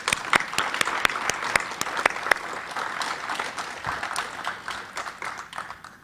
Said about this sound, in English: Would you mind to stand, Leon, so we can give you a round of applause?